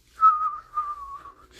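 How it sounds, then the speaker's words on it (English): Someone whistles a single sustained, wavering tone lasting over a second, close and fairly clear with no talk around it. "he's just kind of whistling"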